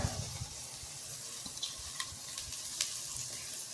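Chivai greens (a summer leafy vegetable) sauté in a hot tempering oil pan, a steady close sizzle with soft stirring scrapes and a few brighter crackles, no voices.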